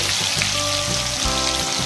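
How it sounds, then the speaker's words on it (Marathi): Curry leaves crackle as they are tempered in hot oil for a Konkani-style mandeli fish curry, a dense, close, steady sizzle like rain on a surface. "आता मी फोडणीला कढीपत्ता टाकले"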